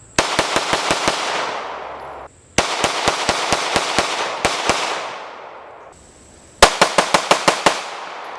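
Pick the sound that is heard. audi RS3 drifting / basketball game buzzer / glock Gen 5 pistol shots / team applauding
glock Gen 5 pistol shots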